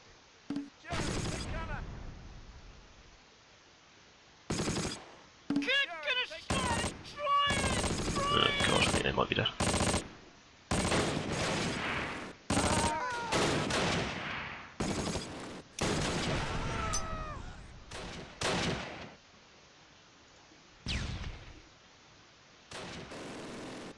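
Gunfire in the WWII strategy game Close Combat: Last Stand Arnhem, bursts of rifle and machine-gun shots in short clusters, with someone talking over them at intervals.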